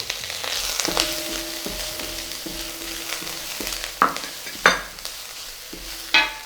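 Prawns and carrots sizzle steadily in a wok over high heat for Nyonya-style pineapple fried rice, with a continuous hiss broken by sharp metal spatula clanks and scrapes near the one-, four-, four-and-a-half- and six-second marks, close and unaccompanied by talk.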